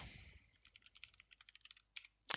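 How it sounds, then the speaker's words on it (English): Quick typing on a computer keyboard, a run of a dozen or so soft, close key clicks in an uneven rhythm, followed by a brief pause and a couple of sharper final taps. "Let's type it down."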